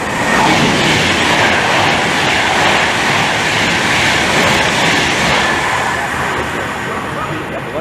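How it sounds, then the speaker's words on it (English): A Virgin passenger train from Liverpool to London runs through Milton Keynes Central station on the West Coast Main Line, a loud, steady rushing roar with wheel clatter that continues throughout and fades slightly at the end. "now passing through is 1 Alpha 47, the 1627 London, Virgin train service from Liverpool to London"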